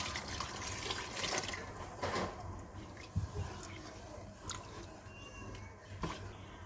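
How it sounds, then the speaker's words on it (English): Water pours into a cooking pot of Nigerian stockfish jollof rice, giving a moderate, continuous splashing stream with a few brief clinks and knocks, heard close and without talk. "I'll be adding more water to it because this water can cook the rice."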